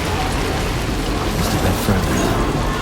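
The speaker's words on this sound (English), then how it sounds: "This rain is relentless right now." Relentless downpour in the video game Death Stranding 2 forms a thick, constant wash of rain noise, close and loud, with no speech over it.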